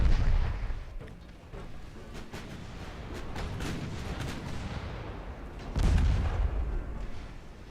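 Naval gunfire in the warship battle game Ultimate Admiral Dreadnoughts, a dense stretch of booming cannon shots and blasts rolling over each other, with a heavier boom near the end.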